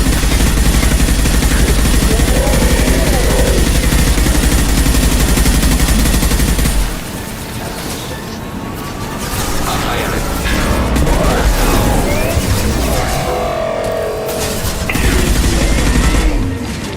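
Heavy gunfire is aimed at the player in the sci-fi game Mass Effect. Rapid automatic bursts roar loudly for several seconds, then give way to scattered shots, booms and clanking mechanical noises that swell again near the end.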